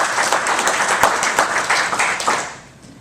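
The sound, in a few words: applause for the hotel and restaurant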